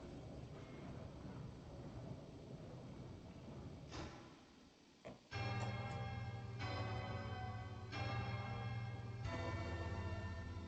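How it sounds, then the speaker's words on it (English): Bells ringing in the video game Silksong: after a short dip, clear resonant bell strikes sound every second or so, ringing out over a low steady hum. "Oh, come on, the bells again?"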